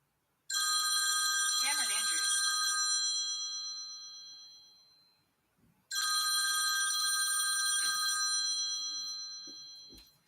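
Telephone bell rings loud and close in two long bursts, each a sustained metallic trill fading out, separated by a short gap; a voice briefly speaks during the first ring.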